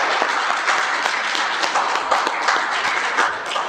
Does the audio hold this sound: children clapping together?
yes